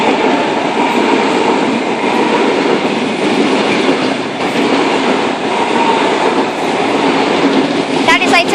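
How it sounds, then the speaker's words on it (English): A Sydney Tangara electric train runs past platform 4 at Tempe station, a loud steady rumble and rattle of wheels and carriages filling the whole stretch, with a brief squeal near the end. "We have a Tangara passing platform number 4."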